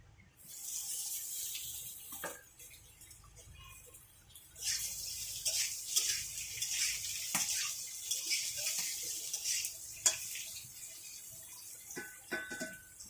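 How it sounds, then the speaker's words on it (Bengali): Potatoes frying in hot oil, a steady hissing sizzle that swells louder partway through and continues with small crackles, fairly quiet and without talk. "এইবারে আলুটা ভেজে নেব।"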